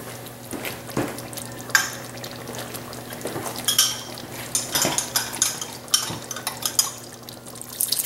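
Chopped carrots and beef broth are stirred in a pot for a short rib stew, with repeated clanks of a spoon against metal over liquid sloshing and a low background hum.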